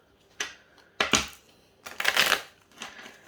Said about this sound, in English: I'm just going to see how they riffle shuffle.